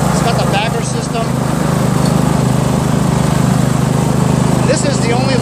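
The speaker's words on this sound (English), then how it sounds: "This is the only lawnmower that actually makes it into the backyard." Riding mower, a Scotts by John Deere lawn tractor with a 17.5 HP Kohler Command engine and 42-inch deck, runs steadily nearby with a loud, even engine drone throughout; a person talks over it.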